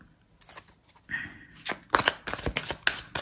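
Tarot cards being shuffled by hand before a reading, a few quick papery riffles and flutters close up, building into several rapid bursts over a few seconds with no speech.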